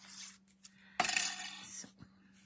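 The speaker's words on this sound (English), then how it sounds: "Do another little tear here." A short, crisp tear through a sheet of card-making paper, close and quiet, lasting under a second amid faint room noise.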